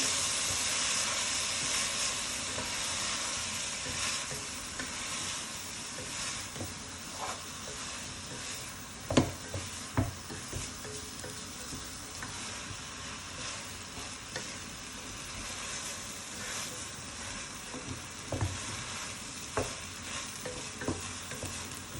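Prawns sizzle and fry in a pan for prawn biryani, with a steady hiss and crackle broken by scraping stirs and a few louder clacks of the spoon against the pan, close and continuous with no talk.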